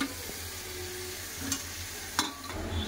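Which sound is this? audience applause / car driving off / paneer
paneer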